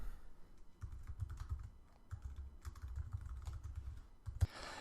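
Rapid, uneven keystrokes on a computer keyboard while code is typed into Xcode for an iPhone app, clattering steadily for several seconds with one louder final tap and no talking.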